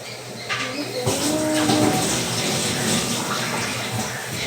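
Steady running water pours continuously as something is rinsed under a tap, with splashing across the whole stretch and no speech.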